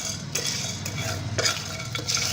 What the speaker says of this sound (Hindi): बिल्कुल लो फ्लेम पे खड़े मसालों को रोस्ट करेंगे।